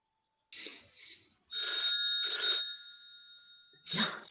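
A telephone rings in an office, heard over a call line: three distinct electronic ring bursts, each a bright warbling double tone, separated by short silences, fairly faint and with no talking.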